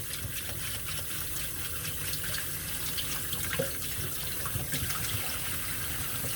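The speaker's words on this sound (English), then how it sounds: "Clean it under the water so that way you can see it when it leaves." A kitchen tap runs in a steady, full gush while an ingredient for gumbo is rinsed under the stream, the water noise constant and close with no talking.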